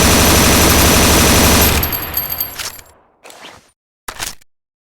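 A SIG CG 551 assault rifle fires a loud, dense burst of rapid shots that fades away, followed by two short separate bursts of clattering mechanical noise.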